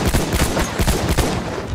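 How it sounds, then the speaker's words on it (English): Rapid gunfire bursts in the World War I shooter Battlefield 1, loud and close, repeating in a quick, dense rhythm with no talk over it. "Oh, I'm getting sniped."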